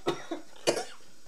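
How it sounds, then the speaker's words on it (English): Coughing from someone with bad allergies: a short burst of three or four dry, raspy coughs in quick succession, close and fairly soft, with no talk. "If I start coughing, I'm sorry. I am having some really bad allergies."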